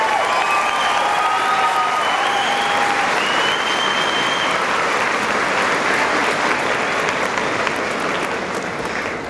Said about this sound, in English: If we could give a round of applause to the band.